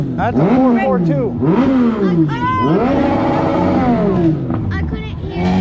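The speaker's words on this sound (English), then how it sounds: "That's an Oldsmobile 442." An Oldsmobile 442 at a drag strip revs repeatedly, its engine rising and falling in sharp swoops before a longer sustained climb, loud and close with people talking over it.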